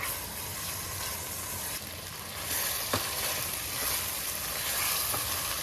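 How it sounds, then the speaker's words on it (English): Spices and chicken sauté in hot oil in a soup pot, giving a steady close sizzle with a few soft stirring scrapes and no talk. "Sauté all ingredients until oil separates."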